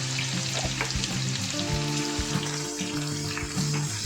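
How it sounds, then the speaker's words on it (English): Ginger garlic paste sautéing in hot oil, a bright steady sizzle with crackling spatter and scattered stirring scrapes, with a faint background hum running underneath. "add ginger garlic paste and saute it until the garlic turns aromatic and turns golden color"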